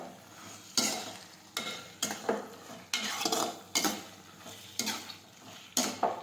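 Okra and green garlic being sautéed in a pan, heard as a steady low sizzle broken by about seven sharp scraping, clinking strokes of a spoon stirring against the metal at a regular, unhurried pace.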